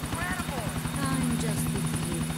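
Helicopter in GTA IV, a loud close rotor thump pulsing rapidly and steadily throughout, with a continuous engine whine and brief game sounds on top.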